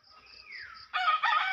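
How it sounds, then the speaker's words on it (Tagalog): A small rooster crows loudly and close by, a short harsh burst that follows a faint rising and falling bird call. "Nanghabol ang manok na maliliit."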